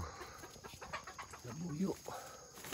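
A mother hen clucks in a short run of soft, close calls on a farm, with faint voices and outdoor background noise.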